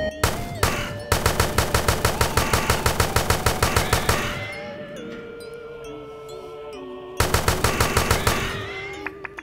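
Gunfire in the Nightmares Shooter zombie-toy video game, heard as rapid, evenly spaced machine-gun bursts. A stretch of musical game tones and effects falls between the loud firing runs.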